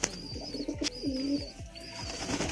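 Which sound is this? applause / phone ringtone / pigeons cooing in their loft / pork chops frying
pigeons cooing in their loft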